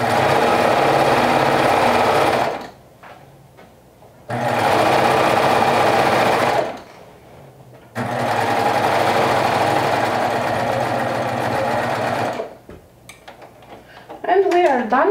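Sewing machine stitching the straps of a pair of overalls, running in three long, steady bursts of loud rapid stitching separated by short pauses, the last burst followed by a little handling noise.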